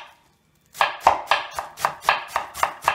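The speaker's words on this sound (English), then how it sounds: "Again, I'm chopping cabbage into small pieces" A knife chops cabbage rhythmically on a cutting board after a brief silence, about nine crisp, evenly spaced chops in quick succession.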